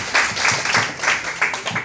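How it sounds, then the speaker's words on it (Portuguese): Audience applause at a workshop, a steady wash of many hands clapping together, fairly loud and close, continuous across the short span without speech. "Palmas para eles também"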